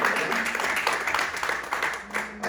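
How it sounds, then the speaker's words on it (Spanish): A church congregation applauding, a dense steady clapping from many hands filling the room for a couple of seconds. "ese aplauso no es para mí, hermano"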